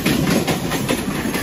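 A train at a railway platform near Neral, giving a steady, loud rumble of wheels and engine noise that fills the whole stretch without any voices.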